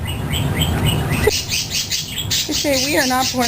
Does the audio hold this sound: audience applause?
no